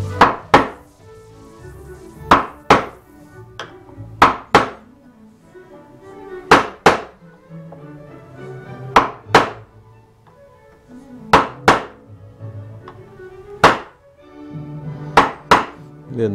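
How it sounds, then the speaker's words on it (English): Chisel chopping wood along the edges of a hole for drawer hardware on a curved blockfront chest: about a dozen sharp, close strikes fall in pairs and singles at irregular intervals, with quiet moments between. "And Just chop along the edges here."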